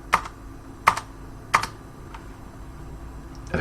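Keyboard shortcuts tapped on a computer keyboard, three crisp, close keystroke clusters spaced under a second apart, then a fainter lone tap, over quiet room hiss.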